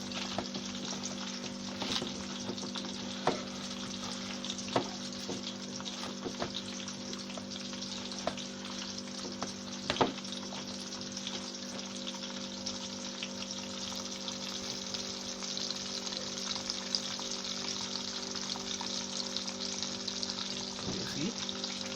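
Chicken sizzles and crackles steadily in a frying pan, a constant hiss with scattered pops and occasional clinks, moderately loud throughout.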